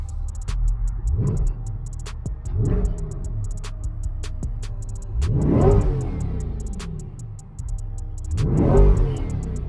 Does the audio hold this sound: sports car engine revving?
yes